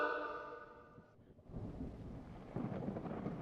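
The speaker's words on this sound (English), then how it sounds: "nice thunder effects" A rolling thunderclap from the Tex Murphy: Killing Moon Rising game booms low and broad after a fading musical tone, then settles into steady rain, fairly loud and with no voices.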